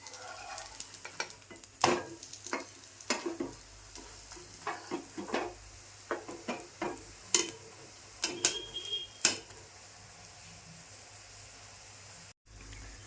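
A spatula scrapes and taps against a pan while turning a raw potato snack, making sharp intermittent clicks over a faint frying sizzle. The scraping stops after about ten seconds, leaving quiet.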